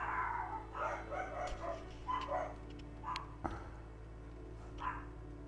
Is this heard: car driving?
no